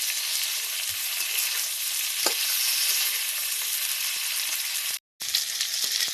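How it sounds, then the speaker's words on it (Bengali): Cauliflower frying in a pan, already salted and coloured with turmeric, making a steady, close broadband sizzle with a brief soft clatter near the middle and a short gap toward the end. "একটু লাল লাল করে ভেজে নেব।"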